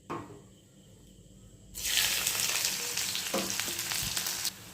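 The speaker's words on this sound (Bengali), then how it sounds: "একটু নেড়ে নেবো, দিয়ে দেবো পেঁয়াজ কুচি।" Chopped onion and whole garam masala hit hot ghee with a sudden loud sizzle, after a quieter stretch of stirring, and keep frying steadily with occasional scrapes of a spoon until the sizzle drops slightly near the end.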